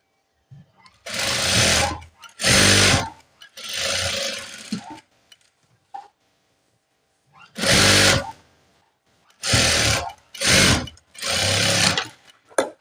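A sewing machine stitches the neck seam of a nurse uniform top in several separate loud bursts of rapid whirring, each a second or so long, with silent pauses between.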